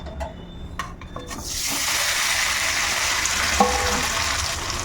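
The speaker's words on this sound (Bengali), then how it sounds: "এখন এই গরম তেলের মধ্যে পনিরগুলোকেও আমি ভেজে নেব" Paneer cubes drop into hot oil, setting off a loud, steady broadband sizzle after a few brief clinks at the start, frying continuously and close up for several seconds.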